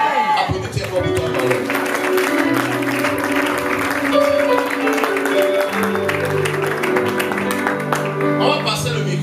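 A church congregation claps at the close of a service teaching. Broad applause is mixed with sustained musical tones and voices throughout.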